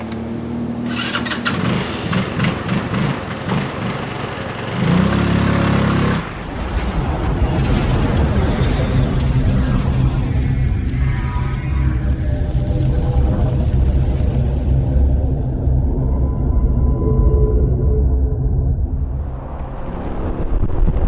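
A scooter engine starts and revs, then runs steadily as it rides along a street in South Florida, loud and close, with the drone changing pitch as it accelerates, and no one speaks.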